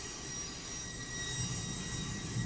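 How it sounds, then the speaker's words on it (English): A freight train rolls past on the tracks, a continuous rumble of wheels with faint high metallic squeals, moderately distant and steady. "here comes the end of the train right here"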